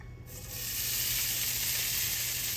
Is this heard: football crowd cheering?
no